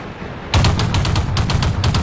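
Rapid gunfire from a tank video game breaks out after a brief quiet moment, a loud, close, continuous burst of evenly spaced shots that lasts to the end.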